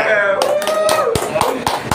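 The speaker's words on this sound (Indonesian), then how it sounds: "Ya kalau gue gini bikin tepuk tangan." A few sharp hand claps ring out over a tonal musical background and a speaking voice, spaced irregularly across the moment.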